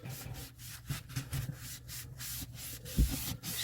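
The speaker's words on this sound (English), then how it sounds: "the little bit of scrubbing after a 5-minute pre-treatment" The grease pan of an East Oak digital electric smoker is scrubbed by hand with short, rhythmic rubbing strokes, close and fairly quiet, with a light knock partway through.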